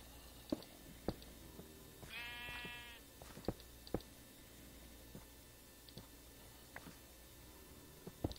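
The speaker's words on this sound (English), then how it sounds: "Sheep, get out of here, please." A sheep bleating in the Minecraft video game: one wavering, nasal bleat about a second long, set among sparse soft clicks and taps, fairly quiet, with no talking.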